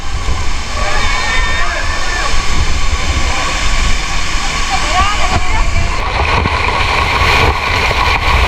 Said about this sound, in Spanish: Mira, esta es la cascada de Los Micos.